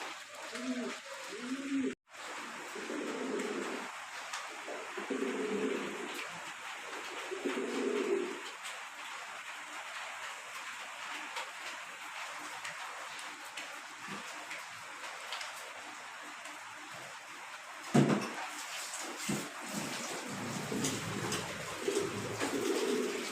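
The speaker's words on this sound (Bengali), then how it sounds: "একদম বিগ সাইজের শো কোয়ালিটির একজন শৌখিন কবুতর দেখতে পাচ্ছেন" Big show-quality fancy pigeons coo in a repeated, low, throaty rhythm, several soft bursts a few seconds apart, close by, with a faint voice in the background and a brief bump partway through.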